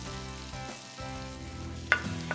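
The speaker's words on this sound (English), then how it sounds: "I threw in a sliced onion, and I've been cooking that" Sliced onion frying in a pan that has just held Salisbury steak patties, with the grease drained, giving a steady sizzle with a brief clatter near the end, under music and with no talk.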